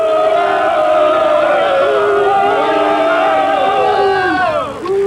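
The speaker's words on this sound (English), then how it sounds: "look at his face and listen to the crowd" A hostile crowd at Jason Patric's movie premiere jeers loudly, with many voices booing and shouting in long, sustained wavering tones close by.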